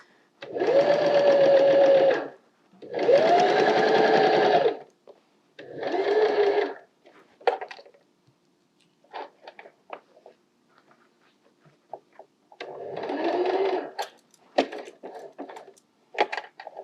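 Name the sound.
sewing machine stitching a soft toy seam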